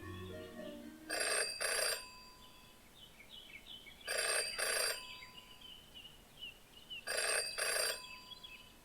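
A telephone rings in the Jenny LeClue video game, three double-burst rings spaced evenly, each bright and clear over a quiet background of faint ambient bird-like chirps.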